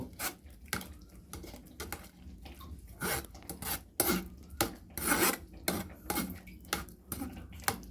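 Cooked tomato pulp pressed and scraped through a sieve with a spoon for homemade tomato sauce, giving a run of close, rhythmic rasping scrapes and rubs with small metallic clinks, no talking.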